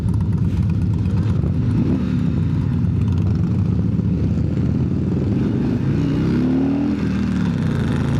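A 2025 Road Glide 3 motorcycle being ridden, its engine a loud, steady low rumble close up, with some rising and falling pitch as the throttle shifts.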